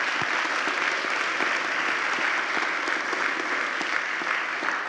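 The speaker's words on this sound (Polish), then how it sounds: "Wielkie brawa dla nich" Dense, sustained applause fills the hall from a congress audience, a continuous even wash of many hands clapping at once, steady in level throughout.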